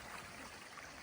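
Creek water flowing in a nature setting in the game Green Ninja: Nature's Last Hope, a steady, soft, continuous rush with no other sounds.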